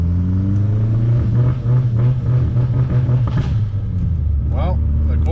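Turbocharged VW MK4 Jetta 1.8T with a stock K03 turbo and 210,000 miles, being driven, giving a loud, steady engine drone and road rumble with some rising revs, close up throughout.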